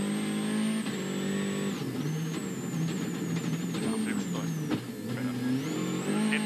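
WRC rally car at the 2014 Monte Carlo Rally sliding through hairpin bends with handbrake use, engine loud and close, revs rising and falling sharply through each turn, no talk over it.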